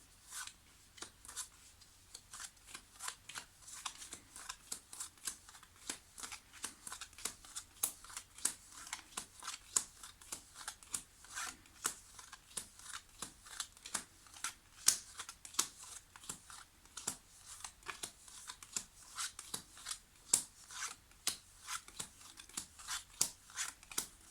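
Tarot cards being cut and shuffled make soft, close, rapid flicks and riffles that repeat in irregular bursts over a quiet room, with no one talking.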